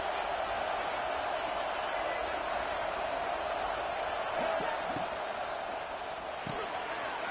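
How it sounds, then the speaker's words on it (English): A fired-up stadium crowd at a football game roars as a dense, even wash of noise, with a few thuds and bangs poking through near the end. "It's early, but this crowd is fired up. Listen to this noise here."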